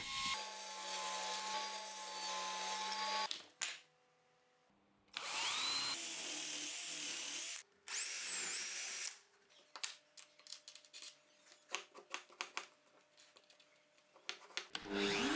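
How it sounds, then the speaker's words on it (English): A 3D router cutting a depth-adjustment groove into plywood: loud sustained whining and grinding runs separated by pauses, followed by a stretch of scattered close knocks and scraping as the workpiece is handled. "With the 3D router, I machine the depth adjustment groove to this other piece of plywood."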